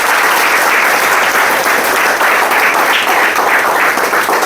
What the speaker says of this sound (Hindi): एक जोरदार ताली होनी चाहिए इस इंडस्ट्री के लिए।